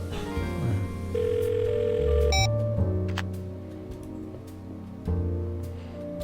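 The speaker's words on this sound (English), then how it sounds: "It's still ringing." An old-fashioned telephone in a video game sounds repeated tonal rings over sustained background music, with bright, brief bursts at steady intervals in the middle distance.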